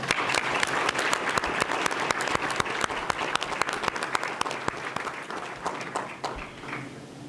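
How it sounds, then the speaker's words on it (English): Audience applause for students honored at a school district board meeting: dense steady clapping from a roomful of people for about seven seconds, tapering off at the end. "Let's give these students one more round of applause."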